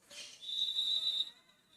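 A handball referee's whistle blows at a women's cup final in Dordogne, a single faint high-pitched blast held for about a second over quiet hall ambience.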